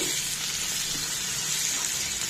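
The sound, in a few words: spices and onions frying in a pan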